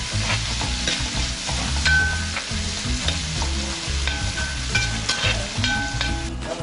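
A single tomato sautéing in a hot pan in a toddy shop kitchen, a busy crackling sizzle broken by repeated scraping stirs of a ladle, close and loud, with faint background tones and no talk.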